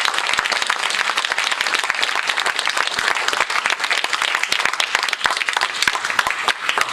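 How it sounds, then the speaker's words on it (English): Sustained, dense audience applause at a political caucus gathering, a loud continuous wash of many hands clapping for a speaker throughout, with no talking over it. "Let's give him a round of applause."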